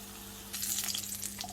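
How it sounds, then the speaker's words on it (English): Chicken kebabs sizzle and spit in a hot pan, starting abruptly after a quiet hum, with crackling pops close by. "whilst they're frying and grilling"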